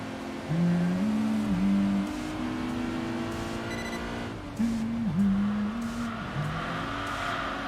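A TVR race car engine in the Enthusia Professional Racing video game revs and shifts, its pitch climbing and dropping through the gears, loud and close, with no voices.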